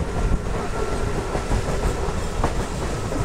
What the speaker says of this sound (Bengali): আবারও ট্রেন আমাদের স্পিড নিয়ে নিয়েছে